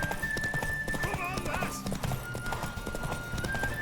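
Horse hooves clip-clop at a steady trot during a ride in The Witcher 3: Wild Hunt, with a brief whinny and a voice talking over the rhythmic game sound.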